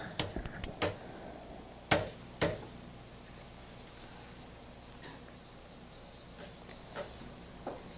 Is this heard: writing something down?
yes